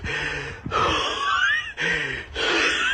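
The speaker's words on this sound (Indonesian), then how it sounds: "Nanjak banget, bikin ngos-ngosan parah." Heavy, rapid breathing close by, with rasping inhales and exhales alternating in a strained, wheezing rhythm, from someone panting hard while hiking up a steep rocky slope on Mount Sumbing.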